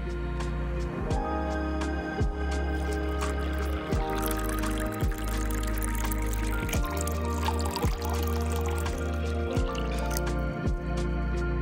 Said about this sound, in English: Place black beans in a container and add water.